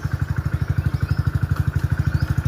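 A motorcycle engine runs with a steady, rapid low thumping pulse, close and even throughout, with no voices heard.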